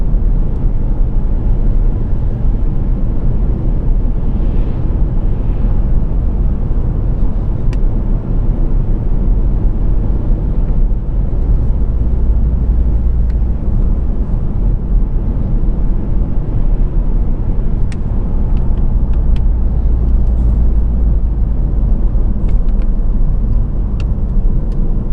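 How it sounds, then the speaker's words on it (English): A 2014 Ford Focus Titanium accelerating on a test drive, heard from inside the cabin as a steady, loud low engine and road drone with continuous rumble and no talking. "I'm very impressed with the pep of this car."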